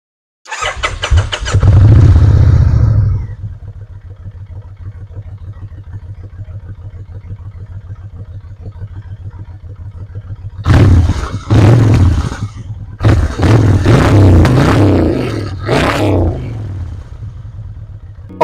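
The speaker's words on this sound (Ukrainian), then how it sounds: "послухаємо звук цього мотоциклу, який безумовно є його візитною карткою" A Kawasaki Vulcan VN 1600 cruiser motorcycle engine cranks and starts, then idles with a steady low rumble, followed by several loud revving bursts before settling back to idle.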